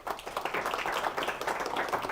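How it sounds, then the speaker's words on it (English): A small audience at a UX Beers meetup in Antwerp claps for a speaker. The applause is fairly faint, dense and steady, with individual hand claps blurring together and no voices. "please give a warm applause for Sherry"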